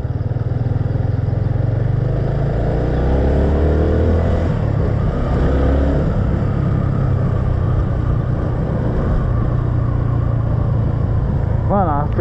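Honda Twister motorcycle riding, its engine a loud continuous drone with rising and falling revs through gear changes, recorded close up from the bike.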